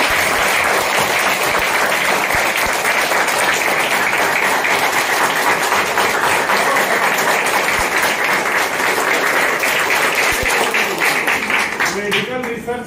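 Loud, dense applause from a workshop audience clapping together, sustained and steady for the whole stretch without letting up, filling the room.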